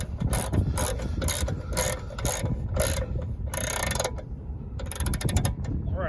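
A wrench ratchets rapidly in repeated bursts, tightening the bottom plate bolts on a Club Car golf cart's front suspension. The clicking is loud and close, with short pauses between runs.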